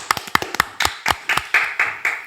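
A few people clap in a small room at a Paris poker club event, a sparse, close, uneven run of distinct hand claps over about two seconds with no talk.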